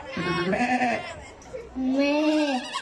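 A person imitates a goat's bleat at a Christmas lights inauguration event with a farm-animal game, two wavering voiced bleats separated by a short pause, close and loud.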